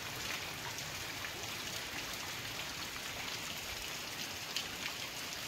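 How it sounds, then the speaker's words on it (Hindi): Torrential rain pours off a roof in a steady, dense, close hiss with a constant roar and no break or talk throughout. "छत से गिरते पानी से आप अंदाजा लगा सकते हैं कि कितनी तेज बारिश हो रही है, बिल्कुल मूसलाधार बारिश चल रही है"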